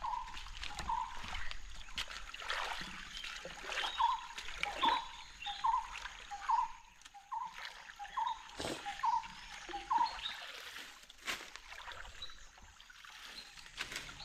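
Shallow water trickles along a forest channel, a faint continuous gurgle with a run of regular soft plops and occasional knocks, outdoors with no voices.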